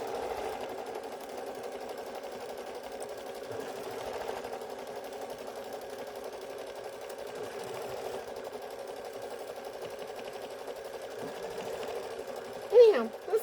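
A sewing machine runs steadily while stitching a fabric snowman trivet, a low continuous whir lasting throughout, with a person talking over it.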